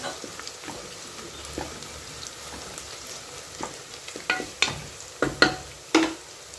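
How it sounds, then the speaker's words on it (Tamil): Chopped onions sautéing in a pan for a chicken curry, a low sizzle with stirring scrapes that grow louder and sharper toward the end, close by with no talking. "வெங்காயம் சேர்த்து நல்லா வதக்கி வச்சுக்குவோம் இந்த வெங்காயம் நல்லா நிறம் மாறி வரணும்"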